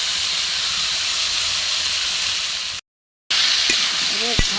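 Watery ground spice paste hits a hot pan with ginger for a potol and soybean curry: a loud, even sizzling hiss, a brief cutout, then the sizzle returns with a few spoon clinks against the pan.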